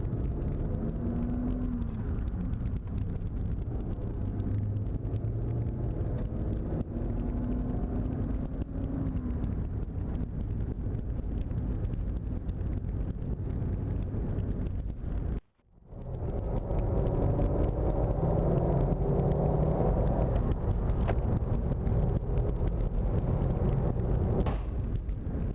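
A 1941 Cadillac Fleetwood 60 Special cruises along with a steady low engine rumble and road noise from inside the car, interrupted by a brief dropout midway before the hum resumes.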